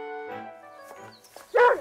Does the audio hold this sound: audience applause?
no